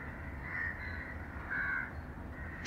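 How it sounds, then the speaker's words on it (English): A crow caws twice, at a distance and fairly faint, over a low steady background hum. "the crow?"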